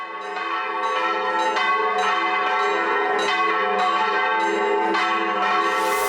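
One of Brazil's largest bells, at the Nossa Senhora do Carmo church in Ouro Preto, Minas Gerais, rings close and loud, with repeated strikes every second or so over long overlapping ringing tones.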